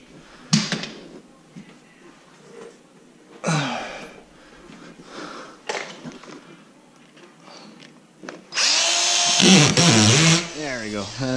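A power drill drives screws into double-layer drywall sheets lifted against a hallway ceiling, giving one loud, close whirring burst near the end after scattered knocks and handling sounds, with a voice heard nearby.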